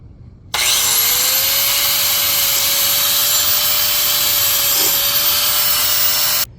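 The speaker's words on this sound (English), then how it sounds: "I found that a metal cutoff wheel is very effective removing this old wicker." A metal cutoff wheel grinds old stapled wicker off a steel chair frame, a loud steady high-pitched whine and rasp that starts abruptly, holds for about six seconds, then cuts off.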